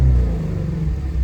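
A 2018 Ford Mustang Shelby GT350 engine pulls hard under acceleration, a loud, close, deep rumbling roar that holds steady over a short burst.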